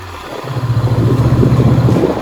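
A Honda CB500X motorcycle pulls in sixth gear at low speed, its engine a close, rhythmic low thrumming that swells slightly, with some wind rush and no talk.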